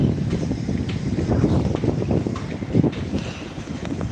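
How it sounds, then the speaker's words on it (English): Strong wind gusting across a beach in Fortaleza, buffeting the microphone with a loud, continuous low roar and no speech. "the wind blows the sand on the leg"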